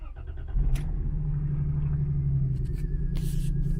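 A Lexus GS300 from an auction lot cranks and fires, then settles into a steady low idle rumble close by, with a slight roughness from a misfire.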